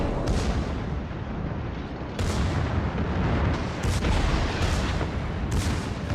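Ship cannons firing in a naval battle in an ark-themed game, a continuous loud roar of gunfire with several sharp booming broadside blasts standing out against the din.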